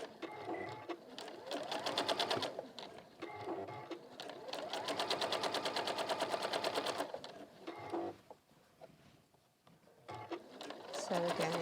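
A sewing machine runs in sustained bursts while top stitching a hat brim to the middle hat section, its rapid needle rhythm pausing and restarting, with someone talking over parts of the stitching.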